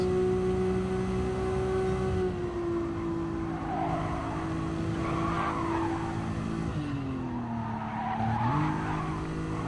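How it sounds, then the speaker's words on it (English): Race car sliding sideways through a corner at Goodwood in Gran Turismo Sport, a steady engine drone with gear shifts and rising, falling tire squeal across the whole stretch, loud and close. "Sideways slide, lots of balancing and smooth braking and smooth accelerating."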